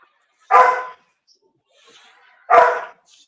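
Two loud, close barks from dogs that may be bulldogs or a bulldog mix, about two seconds apart, with faint background noise between them.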